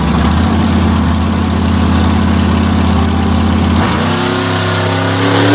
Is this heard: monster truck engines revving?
yes